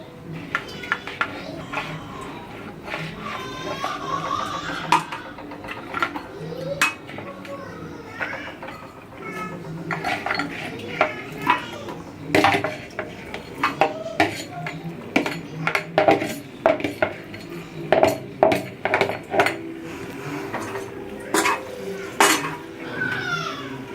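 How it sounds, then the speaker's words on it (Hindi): Half-cooked mutton for a Peshawari tawa karahi is added to a hot tawa and stirred, bringing repeated metallic clanks and scrapes of a utensil on metal that grow sharper and denser toward the end, under occasional talk. "अब हम गोश्त डालेंगे इसमें, जो हमने हाफ डन पहले से कर लिया था।"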